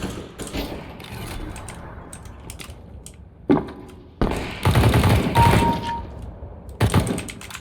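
Video game gunfire heard through a Sennheiser GSX 1000 amplifier, rapid bursts crackling over a steady background hum, with louder volleys in the second half and a brief electronic tone.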